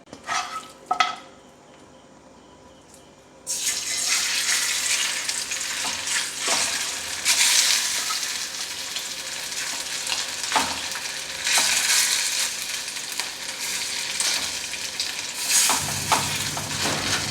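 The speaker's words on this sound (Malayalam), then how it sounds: "കുറച്ച് ഓയിലിൽ ഫ്രൈ ചെയ്തെടുക്കുന്നത് കേട്ടോ." Chicken shallow-frying in a little oil for a homestyle chilli chicken fills the pan with a steady, loud sizzle. A quieter stretch opens it, broken by a few clinks, and then the frying runs on with occasional stirring scrapes.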